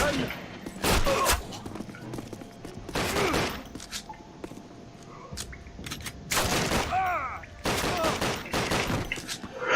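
Gunfire in Call of Duty Classic: repeated bursts of rapid shots and booming reports across the clip, loud and close, with someone talking in French between and over the firing.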